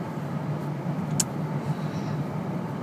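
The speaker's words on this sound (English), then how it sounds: "I'm driving home from Walmart" A car drives along on a cold day, its engine and road noise a steady low hum from inside the cabin, with one brief sharp click partway through.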